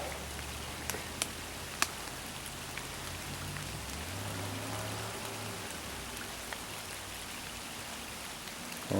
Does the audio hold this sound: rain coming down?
yes